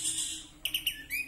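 White-rumped shama (murai batu) songbird, a short burst of clear, high chirps: one sustained note, then a quick run of three sharp notes and a rising whistle, near and alone.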